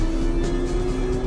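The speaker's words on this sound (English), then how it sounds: "Nice engine sounds on this." A steady Porsche engine drone in a PS1 racing video game holds a constant pitch throughout, with a few brief brighter swells layered on top, as if the car is cruising at an even speed.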